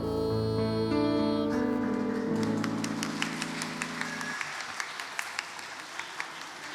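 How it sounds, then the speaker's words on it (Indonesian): Audience applause at a Sunday school Christmas celebration service in a church, rising as the music ends and continuing as steady, fairly close clapping with a few sharper individual claps. "Beri tepuk tangan sekali lagi."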